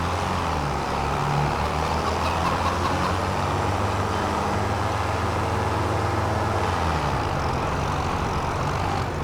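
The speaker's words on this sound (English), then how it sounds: "So I think we'll use the other tractor now." A farm tractor engine runs at a steady, close, low drone for the whole stretch, a continuous rumble with slight shifts in pitch and no one talking.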